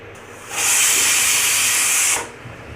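A pressure cooker cooking duck meat lets off its whistle, a loud, forceful hiss of escaping steam lasting just over a second and a half, cutting in and stopping abruptly, with no talking.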